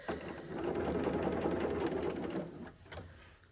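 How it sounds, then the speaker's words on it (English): A sewing machine fitted with a freehand embroidery foot runs steadily, stitching around a circle at a short stitch length, a close continuous whirring hum that slows and stops near the end. "And now we're going to stitch that circle"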